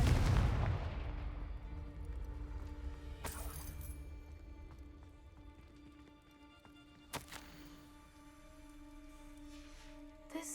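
A Confringo fire spell cast in a Harry Potter game lands with a loud booming blast at the start that fades into a ringing tail, followed by a few fainter sharp cracks and clinks, with no talking.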